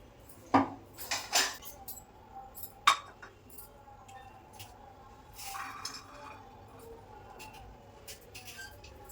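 Clinks and scrapes of a utensil stirring onion into a chickpea salad with grated tomato, cucumber and carrot in a bowl, a few sharp knocks early on, then softer intermittent stirring.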